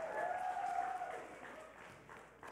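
A church audience at a vineyard congregation gives a short burst of applause, fairly quiet and distant in a large room, fading out over a couple of seconds.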